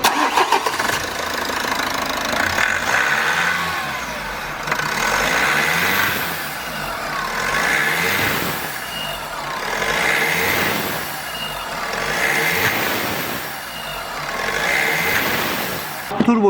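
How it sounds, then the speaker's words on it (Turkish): A Renault 2.0 dCi diesel engine idles steadily with a high water-cooled variable-geometry turbo whine and whistle riding over the rumble, the pitch swelling and easing in slow, repeated waves. "Turbodaki sesi sizlere de dinleteyim."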